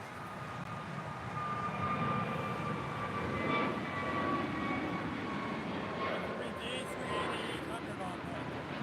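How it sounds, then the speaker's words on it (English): A Japan Airlines Boeing 777 taxis at LAX, turning onto a taxiway, its engines giving a steady low rumble with a faint high whine, moderately distant, while people talk over it. "Japan Airlines 777 making that left-hand turn onto Bravo"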